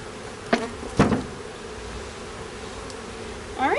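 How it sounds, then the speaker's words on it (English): Honey bees from a package being installed into a hive give off a steady, close buzzing drone, broken by a couple of sharp knocks near the start and a louder swell of buzzing at the end. "so the rest of the bees can make themselves at home"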